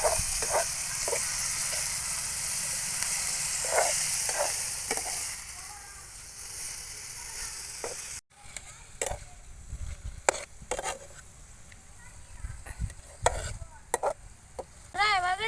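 Food seasoned with salt and turmeric crackles as it is stirred and fried in a pan, a steady sizzle at first, then quieter frying punctuated by sharp spatula scrapes and clinks.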